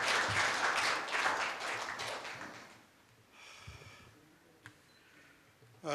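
Applause from an audience at a Korea University law school ceremony, a broad wash of clapping that fades out after about three seconds, leaving quiet room noise with a few faint clicks.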